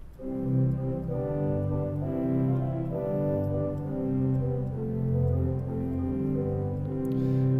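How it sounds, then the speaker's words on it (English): Sustained pipe organ chords on the principal 8-foot stop play alone with a clear, full tone, sliding between held harmonies at moderate volume, on a large 121-rank organ in Washington DC. "The principal 8-foot sounds like this."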